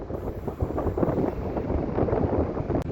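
Wind buffets the microphone on an open links golf course at St Andrews, a loud, gusty rumble that swells and fades unevenly throughout, with no voices.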